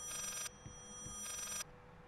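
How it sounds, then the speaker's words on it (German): An old-fashioned telephone bell in the horror game Layers of Fear rings in two bright, shrill bursts of about half a second each, separated by a pause, with quiet, low ambient rumble underneath. "Oh oh, Telefon klingelt."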